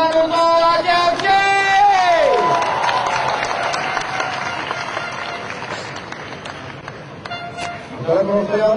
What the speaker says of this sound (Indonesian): Kita beri tepuk tangan untuk Aceh FC.